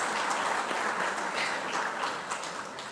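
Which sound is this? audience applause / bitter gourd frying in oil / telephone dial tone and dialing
audience applause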